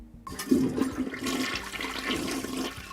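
A toilet flushes in a nearby room, a loud rush of water that surges in and then settles into a steady, gurgling drain, with no voices.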